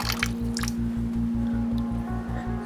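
Water running from the tap of a newly installed garden water butt, a steady squishy dribble and splash with a regular pulsing low hum beneath, no talking.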